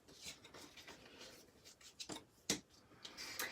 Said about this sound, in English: I'm going to just go ahead and fold in all of the, or burnish all of the score lines to make sure that I have a really nice,